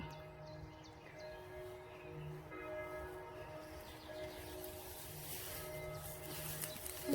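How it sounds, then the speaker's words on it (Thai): Bells ring in slow, evenly spaced strokes with lingering tones, heard from a distance over faint background noise, no one speaking. "ระฆังโบสถ์พี่น้อง"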